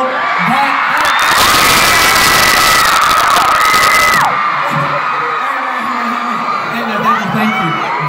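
A concert crowd of fans at a show in New York screams loudly and continuously, with shrill cheering peaking in a dense wall of noise before easing into excited shouts.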